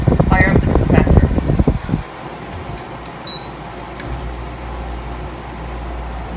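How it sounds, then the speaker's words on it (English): Haier 5,000 BTU window air conditioner compressor kicking on after a stretch of talking, then settling into a steady low hum with whooshing fan noise, close by. "the compressor has just started up"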